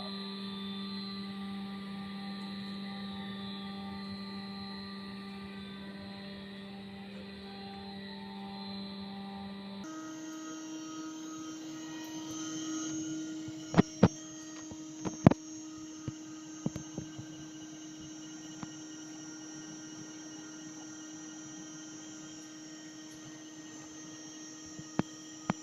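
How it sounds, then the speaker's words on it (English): A compression testing machine runs while gradually loading a metal bar, giving a steady mechanical hum with tonal whine that shifts partway through, then scattered sharp clicks and cracks as the specimen gives way. "Again we will start machine and we will give the gradually load to this bar."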